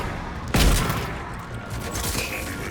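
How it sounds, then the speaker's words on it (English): A single loud, close shotgun blast in the Mass Effect Legendary Edition video game, a sharp boom followed by a fading rumble and a noisy battle background with no talking. "The shotgun is not good at range."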